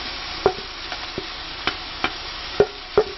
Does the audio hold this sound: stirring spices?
yes